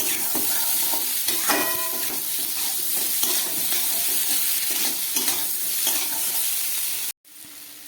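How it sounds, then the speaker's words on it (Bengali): Spices with Kashmiri chilli powder are stir-fried in a pan for a vegetarian kachori curry, with a continuous sizzle and repeated scraping stirs. Near the end the sound drops out abruptly, then a quieter sizzle resumes. "মশলা দেবার পরে প্রায় আমি 2-3 মিনিটের মতো খুব ভালো করে কষিয়ে নিলাম"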